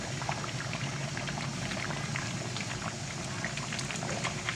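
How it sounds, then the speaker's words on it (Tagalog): A pot of Filipino pork blood stew (dinuguan) bubbles and boils steadily, with a dense crackle of small popping bubbles close by and no voices. "kumukulo na po ang ating dinuguan"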